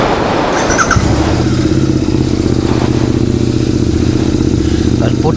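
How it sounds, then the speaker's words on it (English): A superbike engine starts and settles into a steady, loud running drone during home chain servicing, continuous and close throughout. "Okay, for that I'll just start the bike once again."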